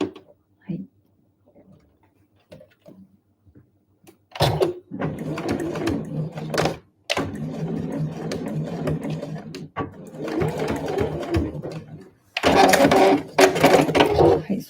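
Sewing machine running a backstitch seam on a convenience-store eco bag, with bursts of rapid stitching starting and stopping between quieter pauses and handling clicks.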